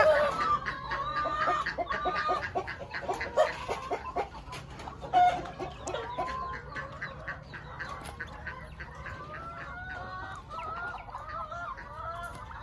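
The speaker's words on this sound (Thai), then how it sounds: "ไก่งวงสามตัวที่เพิ่งซื้อมาใหม่ค่ะ ดูความน่ารักของไก่งวงตัวผู้นะคะ" A male turkey greets three newly bought female turkeys with a busy, overlapping run of clucks and warbling gobble-like calls, fairly near and continuous, over faint background noise.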